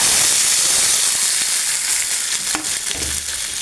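Sliced shallots or small onions sizzle in hot coconut oil in a pan, a steady bright hiss with a few crackles and pops, close and fairly loud, no talking.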